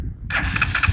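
A motorcycle engine on a village road catches and starts abruptly after a brief quiet moment, then runs with an uneven, rumbling idle close by.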